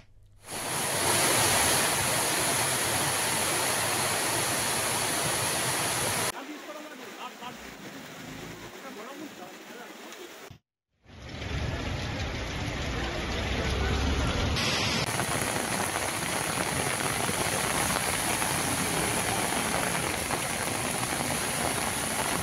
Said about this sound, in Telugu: కుకట్పల్లి, చందానగర్, మియాపూర్, నిజాంపేటలో భారీ వర్షం పడుతుంది.